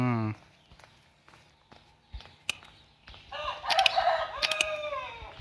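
A rooster crows near the end, a bright rising call loud over light footsteps, after a short voice at the start and faint movement sounds.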